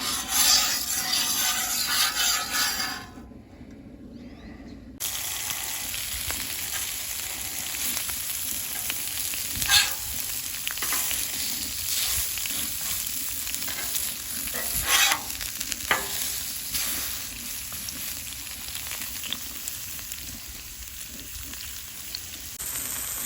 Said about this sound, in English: we'll spread this oil around here on the Blackstone Griddle